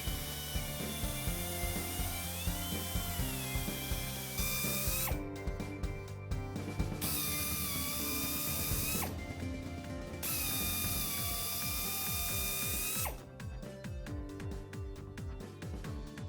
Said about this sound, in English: the injury should be drilled 5 times from each direction